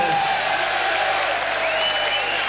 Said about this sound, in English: the cheers mixed with some boos here